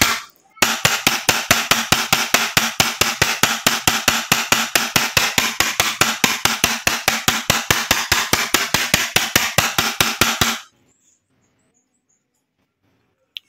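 An iron hammer strikes a tempered glass phone screen protector again and again, giving about fifty sharp, rapid, evenly spaced taps for roughly ten seconds before stopping suddenly. The taps are close and loud, with no talking.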